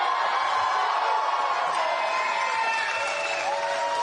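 Dense, loud crowd at a JD Vance political rally in Waukesha, Wisconsin, cheering and whooping continuously for about four seconds as a sustained roar with no individual voice standing out.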